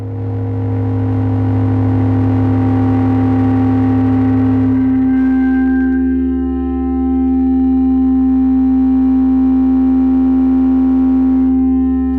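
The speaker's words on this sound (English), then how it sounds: "you can just hear what the chord sounds like going through the bank" A sustained synthesizer chord drones loudly and steadily through a Behringer 914 filter bank, its tone shifting partway through as low notes drop out and a filtered, slightly buzzy timbre emerges.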